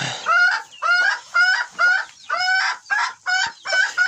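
Young chickens being moved to a new pen call out close by, a rapid series of loud, nasal, honking clucks in short repeated bursts.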